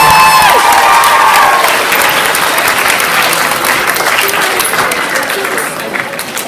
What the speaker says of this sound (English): Give her a round of applause, Mrs. Binkley.